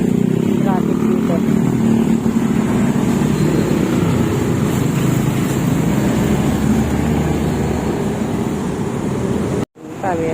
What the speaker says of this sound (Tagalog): Tignan natin ang traffic dito.